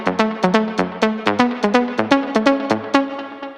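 A melodic house synth lead played with 20% swing, bright plucky notes in a bouncy, shuffled rhythm, each with a quick attack and short decay, loud and close with no voices.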